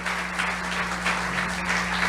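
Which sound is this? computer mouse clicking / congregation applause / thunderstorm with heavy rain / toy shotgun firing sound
congregation applause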